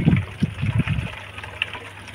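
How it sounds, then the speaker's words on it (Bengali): Water poured over plants gurgles and splashes in a few short bursts, close by, then trails off into a faint steady trickle. "আমি আগে গাছে জল দিয়ে দিই"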